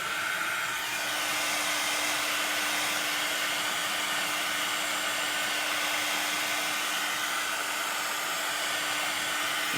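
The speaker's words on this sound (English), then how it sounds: "make sure you keep your heat tool moving, because you don't want to end up with burnt spots" An embossing heat tool blowing hot air while paper crafting, a steady, loud, unbroken blower roar with a faint whine running through it and no talk.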